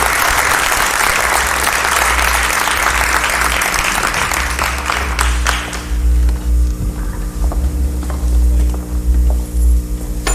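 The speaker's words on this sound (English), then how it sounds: "Let's give a round of applause, please, for Captain Robert K. Cook III." An audience at a foundation event for science and technology breaks into loud, sustained applause that fades after about six seconds, leaving a low hum and scattered faint claps.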